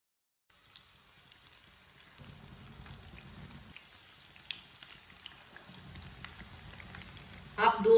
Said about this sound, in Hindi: अब एक एक करके कबाब डालेंगे।